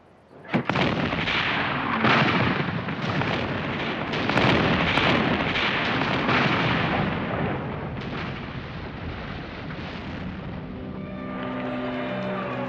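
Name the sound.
artillery cannons bombarding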